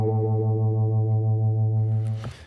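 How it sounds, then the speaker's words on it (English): A sustained electric guitar note runs through a 4-stage phaser pedal set to a fast rate, giving a steady, wobbling rotary, vibrato-like shimmer, before a brief scrape ends it. "you almost get kind of rotary pedal sound or a vibrato kind of sound"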